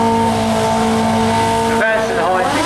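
A 1127cc flat-track sidecar racing at the Brighton Speed Trials, a loud, steady engine drone with a sharp break and a pitch shift near the end, with speech mixed in.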